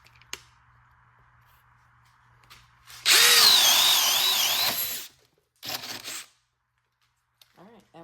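A DeWalt drill bores a 1.5-inch hole in a burst of loud, high whining grind lasting about two seconds, followed by a shorter second burst, with quiet pauses and a faint low hum before it.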